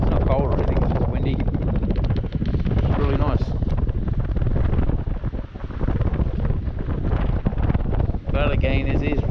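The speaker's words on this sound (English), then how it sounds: "It's not cold or anything, it's just windy." Strong wind buffets the microphone on a beach at sunset, a continuous loud roaring rush with gusts, while people talk faintly underneath.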